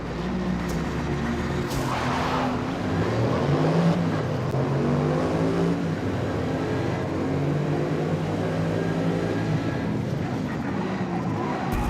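Several race car engines in a Forza Motorsport super sedan race roar together continuously, with layered droning tones rising and falling as the cars accelerate and shift, loud and steady throughout.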